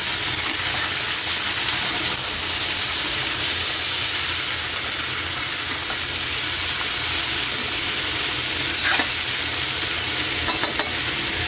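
Tuna frying in a pan while being stirred, a loud continuous close sizzle with hiss and occasional scraping clinks of the utensil, no talk.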